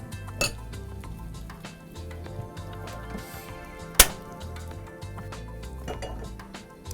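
Pans and utensils are handled in a home kitchen while preparing crispy chicken potato balls, giving scattered light clinks and scrapes with one sharp metallic clank midway, close and fairly quiet.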